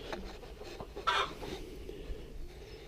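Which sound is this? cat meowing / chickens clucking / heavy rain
chickens clucking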